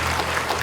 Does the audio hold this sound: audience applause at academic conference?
yes